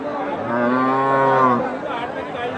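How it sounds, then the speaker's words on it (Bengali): A cow at a busy cattle market gives one long, loud, close moo lasting over a second, with faint crowd chatter in the background. "এই হচ্ছে এখানে একটি গরু"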